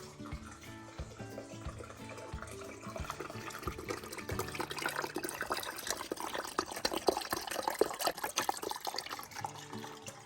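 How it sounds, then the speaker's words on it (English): Chicken broth is poured into the cavity of a turkey being prepared for sous vide cooking, a steady, quiet liquid pour that gradually thickens into a fuller splashing stream. "I'm gonna start pouring it into the cavity"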